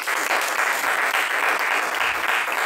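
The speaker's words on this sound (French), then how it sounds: "Nous allons glorifier notre Dieu par des acclamations." A church congregation applauds and cheers to glorify God, continuous dense clapping at a steady level throughout the brief stretch.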